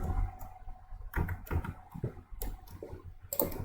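Keyboard keys pressed in a few quick clicks while cutting and confirming in a banner design program, close and fairly quiet, with scattered taps spread across a few seconds.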